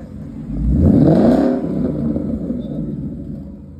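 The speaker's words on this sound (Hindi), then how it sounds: "Mustang is all about sound." A Ford Mustang engine revs up loud and close, a deep rising roar that swells and then settles into a steady rumble for a few seconds.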